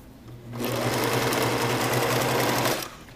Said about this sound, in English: So we're doing this folding under the presser foot in the machine, needle in.